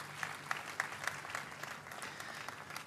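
Faint, distant applause from a church congregation, scattered claps with a few sharper hits standing out.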